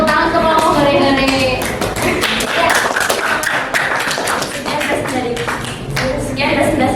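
Students in a high-school classroom clap for a group after its presentation, a dense burst of claps and taps mixed with loud overlapping chatter and cheering voices.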